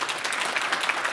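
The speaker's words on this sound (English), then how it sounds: "let's have a round of applause for Jerry" A conference audience applauds steadily for an organizer named Jerry, a dense even patter of many hands with no talk over it.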